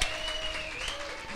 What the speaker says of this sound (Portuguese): Aplauda ao Senhor, igreja.